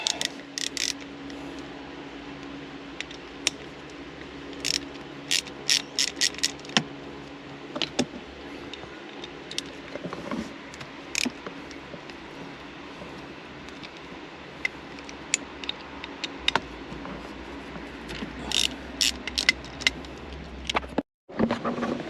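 Bolts being undone on a Getrag V161 gearbox from an MK4 Supra, with steady rapid ratchet clicking over a low hum and occasional sharper metallic ticks and clanks, no voices.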